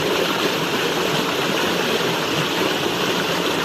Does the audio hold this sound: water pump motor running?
yes